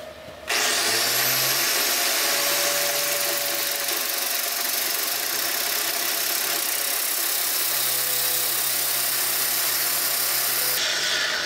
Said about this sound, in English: I'm gonna spin the drill and put it onto the grinder